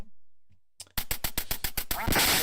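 Quacks from ducks in the NES game Duck Hunt: after near silence, a rapid train of about eight sharp, evenly spaced electronic quack bursts, ending in a brighter, noisier burst.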